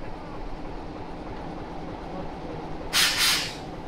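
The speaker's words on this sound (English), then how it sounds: "This is the train." The Oravita-Anina train in Romania rumbles steadily at low pitch, then a sharp burst of hissing air breaks out near the end.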